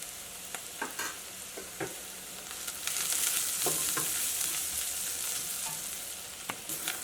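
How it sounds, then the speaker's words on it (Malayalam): Turmeric powder fries with sautéed onions in a pan for a potato curry, a soft steady sizzle with scattered scraping stirs, close and fairly quiet, growing slightly louder midway. "ഇനി മഞ്ഞൾപ്പൊടി അത് കിടന്നിട്ട് നന്നായിട്ട് മുരിയണം"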